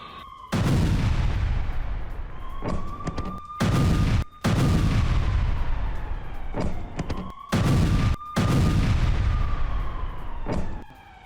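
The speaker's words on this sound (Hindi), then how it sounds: "ورانا الغارة هياها هون." Loud, booming blasts from an airstrike in Beirut come in repeated heavy bursts separated by short gaps, with a faint wailing tone sliding underneath.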